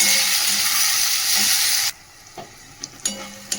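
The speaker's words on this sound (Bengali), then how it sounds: "পেঁয়াজ তো ভেজে নিয়েছি ভালো করে, পেঁয়াজটা একটু ভালো করে ভেজে নিয়েছি" Chopped onion frying in oil with spices, a loud close sizzle that cuts off abruptly midway, followed by quieter room sound with a few clinks and a faint renewed sizzle.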